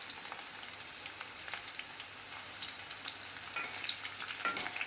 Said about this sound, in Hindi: इसे हम 2 से 3 मिनट इसमें पका लेंगे और अलग निकाल देंगे।